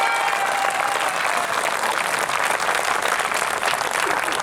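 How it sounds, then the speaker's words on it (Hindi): Sustained, dense applause from a large audience at a poetry and comedy gathering at NTPC Shaktinagar in Singrauli, offered in honour of ISRO; a steady roar of many hands, loud and unbroken from start to finish. "इसरो के लिए जोरदार तालियां होनी चाहिए।"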